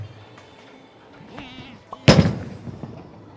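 A bowling ball thrown on a house-shot lane slams into the pins with one sharp, loud crash that rings out briefly, preceded by quiet alley ambience.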